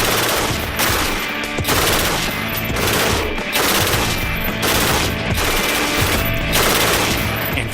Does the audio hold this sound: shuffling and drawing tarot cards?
no